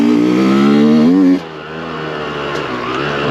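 A loud, close motorcycle engine revs with a rising whine, then drops off sharply to a lower idle rumble.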